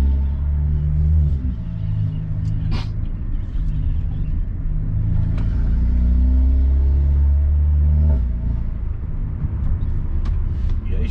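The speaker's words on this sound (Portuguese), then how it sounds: "Fizemos um abafador bonitão, né? Em aço inox de 4 polegadas, só que oco por dentro, pra dar um som, deixar só o cano." A Mercedes A200 with a 1.3 turbo engine, fitted with a 4-inch hollow stainless steel muffler and downpipe, idles and revs with a deep, steady rumble close by, swelling and easing through several throttle blips.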